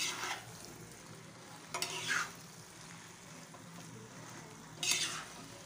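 Two spoons gently toss macaroni in a pan over a low flame, with three short scraping, clattering bursts against a faint background hiss and otherwise quiet pauses.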